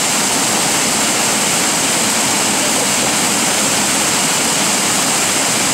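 Water rushing hard from an open hydrant during unidirectional water main flushing, a loud, steady, broadband roar that holds unbroken throughout with no voices.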